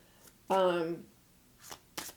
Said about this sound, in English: I started to shuffle.